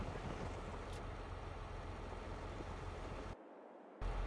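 Steady low drone of a tractor engine in Stone Valley 22, constant and fairly quiet, cutting to near silence briefly before resuming at the end.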